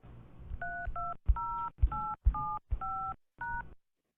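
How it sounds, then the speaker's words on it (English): Telephone keypad touch tones dialing into a voicemail service: seven short, clear beeps at an even, quick pace, each sounding alone with brief gaps, then silence. "Let me go ahead and dial in."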